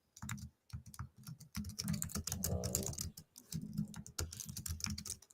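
Steady bursts of computer keyboard typing, clicking away in quick clusters with brief pauses between runs, close and fairly quiet.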